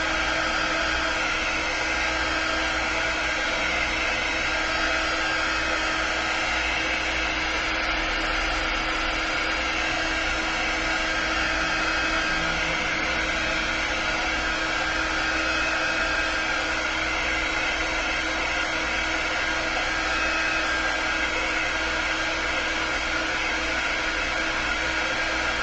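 A hair dryer drying an ink and chalk craft project runs as a steady, continuous loud whir for the whole stretch, close by and unbroken, with no voices.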